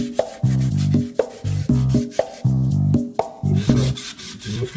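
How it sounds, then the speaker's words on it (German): A wheel rim is hand-sanded with moistened abrasive and glass cleaner, producing rhythmic back-and-forth rasping strokes, about a dozen of them, loud and close, with no talking. "Die muss man mit der Hand schleifen"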